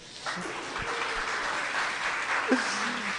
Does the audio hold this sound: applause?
yes